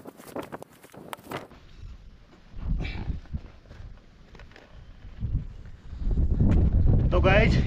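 Strong wind blows through a forest campsite, buffeting the microphone in uneven gusts that grow louder toward the end, while someone speaks in between.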